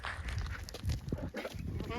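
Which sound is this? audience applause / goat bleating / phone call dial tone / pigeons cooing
goat bleating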